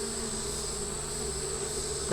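Bees swarm around a hive box after leaving a tree, a dense, continuous buzzing hum that stays steady and close.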